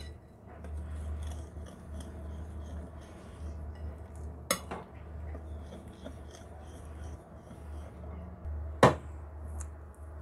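Bika Ambon cake batter with flour is stirred in a bowl: a continuous soft scraping and swishing close by over a low background hum, broken by two sharp clinks of the utensil against the bowl.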